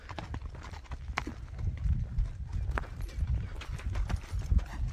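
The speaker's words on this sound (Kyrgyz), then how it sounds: "Өтө баягындай курч ат экен, жаныбар." Brisk, lively horse hooves clip-clopping at a quick pace on hard ground, with steady rhythmic strikes close by and faint voices in the background.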